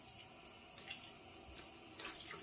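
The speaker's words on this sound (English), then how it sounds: "Water's running, as you can hear." Water runs steadily from a bathroom tap during a double-edge shave routine, a continuous broadband rush with faint splashes and no speech.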